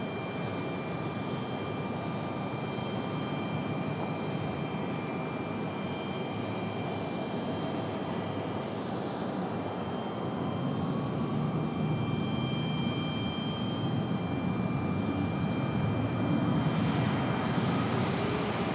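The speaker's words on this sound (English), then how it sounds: "Southwest looking like a max. Rolling out of here." A Southwest Boeing 737 MAX rolls out at Raleigh-Durham airport, its jet engines giving a steady distant whine and broad rumble that slowly swells louder over nearly twenty seconds.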